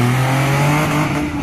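An off-road vehicle launches hard at the start of an off-road race, its engine roaring loud and close with steady revving and a strained, rising note throughout.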